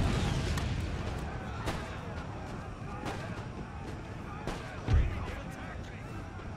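Cannon fire in Empire: Total War during a Prussian campaign battle, scattered dull booms against a rumbling battlefield background, one heavier blast near the end, with someone talking over it.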